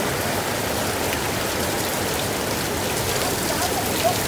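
Heavy rain pours steadily over Prince Edward Market, a dense, even hiss of water hitting surfaces that holds constant throughout without any talking.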